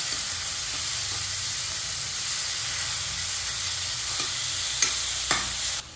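Chopped tomatoes sizzle and hiss steadily in a hot pan for a pumpkin stuffing. Occasional soft stirring scrapes rise near the end over a constant close frying noise, with no speech.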